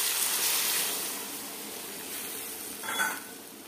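Broccoli gravy in a pan gives a steady, moderate sizzle and hiss as water goes in, with a brief louder spurt of sizzling near the end.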